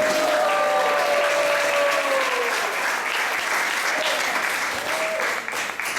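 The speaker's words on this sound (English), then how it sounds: "let's give a wonderful applause for Baba Dayanath and Nihari Prabhu for wonderful performance" Enthusiastic applause from a temple audience after a performance, dense continuous clapping throughout with a faint whistle-like tone early on, near and loud.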